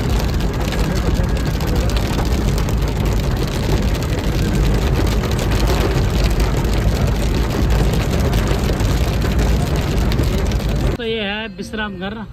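Rain falls steadily outside during a trip to a Balaji temple, a dense, even hiss of drops spreading across the whole clip, with a vehicle rumble beneath it and a brief voice near the end.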